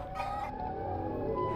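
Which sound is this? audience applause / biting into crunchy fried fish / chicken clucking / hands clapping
chicken clucking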